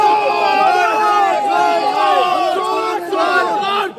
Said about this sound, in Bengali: কোর্ট চত্বরে বিজেপির কর্মী ও সমর্থকেরা একত্রিত হয়ে চোর চোর স্লোগান দেন